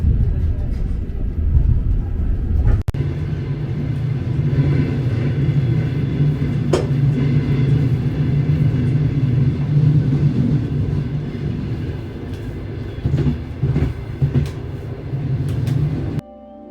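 A Trans-Siberian train rolls along the rails, a loud continuous rumble heard from inside the carriage with periodic clicks and knocks of the wheels over track joints.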